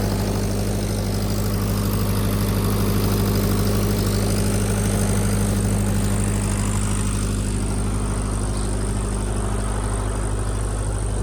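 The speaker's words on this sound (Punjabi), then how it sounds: "ਇਹ ਆਪਣੀ ਬਾਪੂ ਵਾਲੀ ਮੋਟਰ ਵਜਦੀ ਐ" A borewell water pump motor hums steadily and loudly throughout, a constant low mechanical drone with a faint vibrating rattle, no voices.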